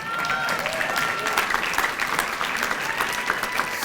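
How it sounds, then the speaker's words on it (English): An audience at an award ceremony claps steadily and loudly, a dense burst of applause with a few cheers mixed in, continuing without a break. "Now y'all need to applaud for that"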